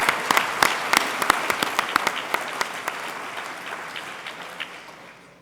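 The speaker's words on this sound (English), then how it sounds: "And now an applause for all of them," An audience at the 2021 Twice A Citizen event, a reserve officers' honors ceremony, claps for the honorees, crisp individual claps at first that thin out and fade over several seconds.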